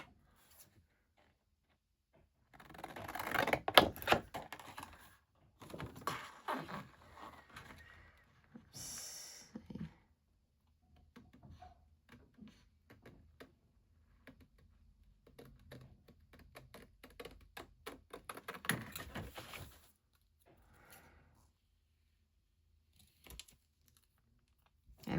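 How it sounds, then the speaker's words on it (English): Large scissors snipping through card stock for a Clematis stamped craft card, a run of quick, close crisp cuts in bursts with short pauses, no talk. "Then we'll just cut this out with my larger scissors."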